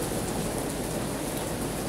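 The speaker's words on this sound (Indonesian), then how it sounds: "hujan dari jam 1, sekarang jam 3" Steady, dense rain falls continuously, a broad even hiss with no breaks, heard alone without voices.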